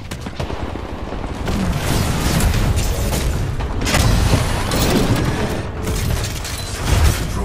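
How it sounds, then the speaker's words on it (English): A Titan crashes down from the sky in the video game Titanfall on a volcanic canal map, a dense, loud roar of booming impacts, grinding machinery and gunfire that swells and bursts several times. "Stand by for Titanfall."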